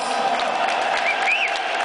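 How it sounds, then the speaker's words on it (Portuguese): An audience at a Corinthians song contest final bursts into dense, loud applause that holds steady throughout, with a faint whistle or two rising above the clapping. "Uma salva de palmas"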